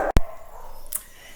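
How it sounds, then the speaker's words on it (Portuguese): A dog gives a single loud, close bark that breaks off abruptly, followed by a fainter sharp call and low background noise, with no one talking. "os cachorros começaram a latir enlouquecidamente"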